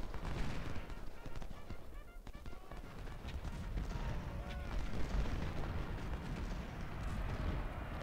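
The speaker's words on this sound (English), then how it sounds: "There, we get a volley." Massed musket volleys and distant artillery in the Civil War strategy game Ultimate General, a continuous rumble of overlapping, crackling shots and booms with no talk.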